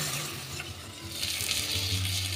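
A soaked spice paste fries in a pan with sautéed vegetables for a fish curry, giving a steady close sizzle and hiss that swells louder toward the end.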